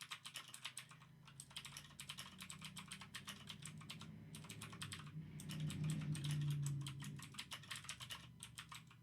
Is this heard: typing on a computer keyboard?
yes